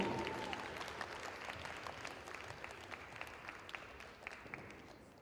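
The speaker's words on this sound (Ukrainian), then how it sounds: "Ще, ще, ще давайте підтримувати оплесками." Applause from an audience at a gymnastics tournament opening and awards ceremony in Dnipro fills the clip, dense clapping that gradually thins and fades toward the end.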